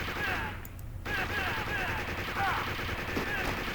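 Gunfire in Taito's 1988 arcade light-gun game Operation Thunderbolt: a continuous rattle of rapid shots, with short electronic tones over it and a brief pause near the start.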